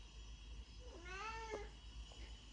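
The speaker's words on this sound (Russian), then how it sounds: "Кто тут мяукает?" A cat meows once with a clear, rising-then-falling call and a faint second chirp, heard indoors against a steady low hum, no talking.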